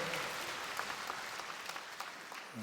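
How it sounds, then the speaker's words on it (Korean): A church congregation claps in welcome during a Sunday service, a dense, fairly faint and steady patter that fills the room and eases slightly toward the end. "여러분께 박수로 환영하시지요."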